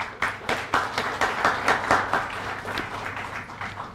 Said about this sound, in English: I would like you all to give a huge round of applause for him.